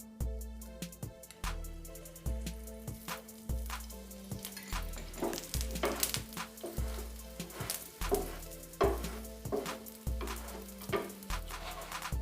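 Aloo paratha fries in oil on a pan, a steady soft sizzle broken by repeated crackles and spits as the flatbread is pressed down and turned, heard up close with no talking.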